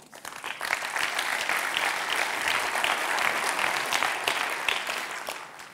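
Sustained audience applause at a business conference honoring a company director general, a dense wash of many hands clapping steadily for several seconds before tapering slightly at the end.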